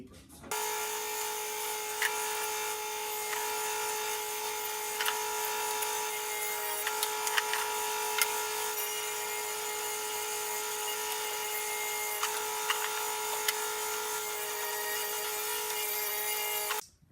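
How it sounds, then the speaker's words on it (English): Power saw cutting plywood pieces for small table legs, a steady high whine running the full length with a few brief spikes as it bites the wood. "we're going to be cutting the pieces for the legs"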